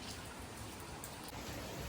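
Steady rain that has been falling for about an hour and a half, a faint, even hiss of drops on surfaces with no voices.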